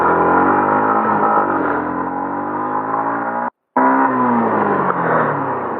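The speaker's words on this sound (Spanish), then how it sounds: "Hemos visto aquí un poquito de aceleración y la moto la verdad es que sube muy bien." A 2022 Yamaha XSR 125 motorcycle accelerates, its small single-cylinder engine rising in pitch through the revs, loud and close, with a brief cut-out for a gear change before pulling hard again.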